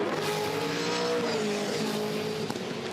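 A V8 Supercar race car oversteers at the 2011 Yas V8 400 circuit, its engine wailing loudly and shifting pitch as the tail steps out, a continuous close roar with no talk.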